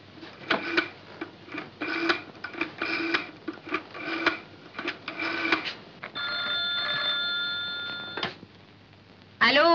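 Landline telephone in an Egyptian comedy scene ringing in repeated electronic bursts, then a sustained tone and a click, close and fairly clear.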